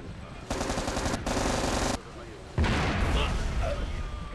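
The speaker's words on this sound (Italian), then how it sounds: "Esplode tutto, potete vedere." Explosions and rapid gunfire in the Earth Defense Force 4 video game, loud bursts of crackling fire in two stretches followed by a heavier rumbling blast, dense and continuous across the clip.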